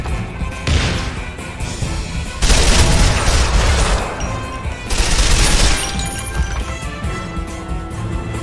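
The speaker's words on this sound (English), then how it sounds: "A grenade!" A grenade blast in the Quantum of Solace video game, heard as two loud, broad bursts of explosive noise a couple of seconds apart over continuous game sound and action effects.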